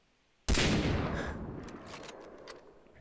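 A sudden loud burst of gunfire in the video game Far Cry 3, one sharp blast that then trails off into a long rumbling decay with faint crackles.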